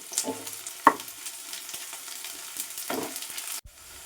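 Onion and green chilli fry quietly in oil in a pan, a soft low sizzle under a few sharp knocks and scrapes as the mixture is stirred, then a brief pause near the end.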